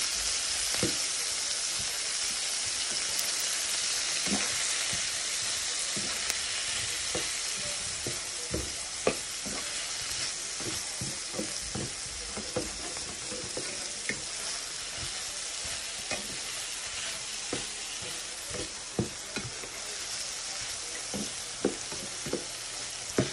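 Brussels sprouts in chili garlic sauce sizzling steadily in a pan, a continuous hiss overlaid with frequent light scraping taps as they are stirred through.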